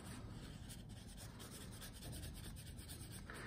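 A stiff bristle brush rubs ink across a surface in a steady, continuous scrubbing rasp, close and fairly quiet, with no talking.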